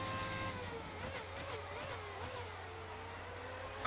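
An F1 car in the F1 2019 video game brakes hard at Monza, a steady engine tone falling in pitch as it slows, with other cars droning nearby, continuous and moderately loud.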